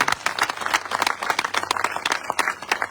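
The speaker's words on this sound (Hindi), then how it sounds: "अपने सम्मान के लिए एक बार जोरदार ताली।" An audience at a direct-selling business meeting applauds, a dense, steady wash of many hands clapping together, loud and continuous throughout.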